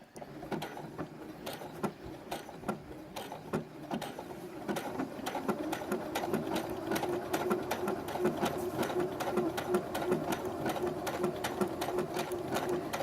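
A sewing machine runs a blanket stitch around an applique on a flag star quilt, a steady close mechanical whir with rhythmic needle clicks, briefly pausing early on before running continuously.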